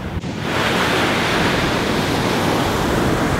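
Ocean surf rolling in at Arrifana beach, Portugal, where waves run about two metres high: a steady, loud, broad wash of breaking water that fills the whole clip, with wind buffeting the microphone and no voices.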